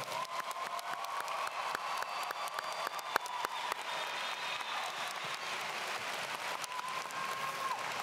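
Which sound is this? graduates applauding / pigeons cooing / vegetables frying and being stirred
graduates applauding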